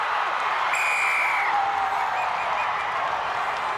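A stadium crowd at a Fijian Drua versus Brumbies rugby match roars in a steady, dense wash of noise, with faint whistles rising out of it throughout.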